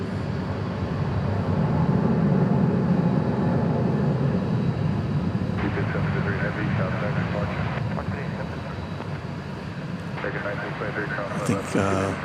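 A passenger airplane taking off at DFW Airport, its engine roar loud and sustained, swelling early then easing slightly as it climbs away, with a voice speaking over it.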